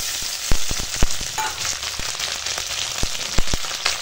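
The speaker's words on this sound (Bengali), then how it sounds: "দেখো এখন পেঁয়াজের সঙ্গে ফোড়নটা ভাজা হয়ে গেছে" Onion with whole spices, cumin paste and ginger-garlic paste frying in a pan, a steady close sizzle broken by sharp clicks and pops of the utensil, with no talking.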